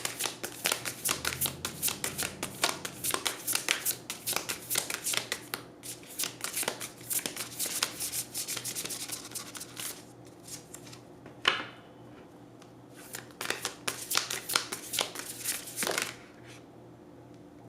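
A deck of oracle cards is shuffled repeatedly up close, crisp riffling and flicking bursts coming in long runs with brief pauses between them.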